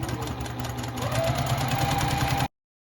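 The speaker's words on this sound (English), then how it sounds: "I've pinned my first 2 long strips, and I'm just going to sew this together." A sewing machine runs steadily, stitching two long pinned quilt strips together for a beginner's nine-patch heart quilt; a continuous close, fairly loud motor hum that stops abruptly.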